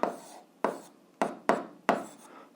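Chalk or pen writing out an algebra equation, five distinct scratchy strokes in a quick irregular rhythm, close and moderately loud, with silence between the strokes.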